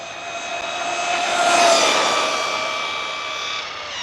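An FMS FMT10 RC monster truck on a 4S battery races past at speed. Its high-pitched electric motor whine swells as it nears and then fades, with no voices.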